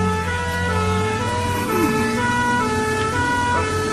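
An ambulance siren wails steadily under traffic rumble, loud and sustained with a wavering tone throughout.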